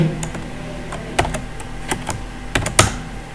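Close computer keyboard typing: scattered individual key taps with a few firmer, louder strokes near the end, over a low steady background hum and no voices.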